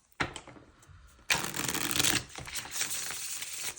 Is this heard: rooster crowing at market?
no